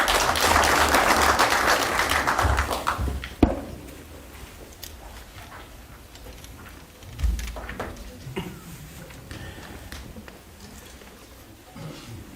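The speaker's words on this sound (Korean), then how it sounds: "큰 박수로 맞아주시면 감사하겠습니다" Audience at a seminar-style forum applauding a speaker's introduction, loud sustained clapping for about three seconds that dies away into a quiet room with scattered shuffling and a few faint late claps.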